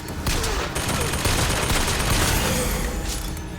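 Dense gunfire from a Bioshock Infinite shootout plays in a VR session, sustained rapid shots and bursts rattling continuously and loudly for the whole stretch, with a faint voice beneath.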